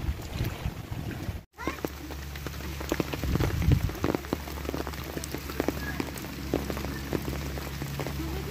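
Heavy rain pours steadily onto foliage and ground beneath trees, a dense, continuous patter with scattered louder drips, broken by one brief dropout early on.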